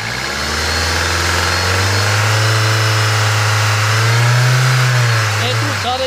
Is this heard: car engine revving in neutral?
yes